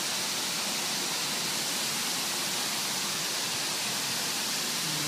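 Water wall fountain on a Seattle building, steady broadband rushing and hissing like heavy rain, constant in level throughout with no breaks.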